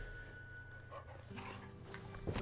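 Dog in the video game Final Fantasy 16 panting and giving soft whimpering barks, faint over low ambient game music and background hum, without speech.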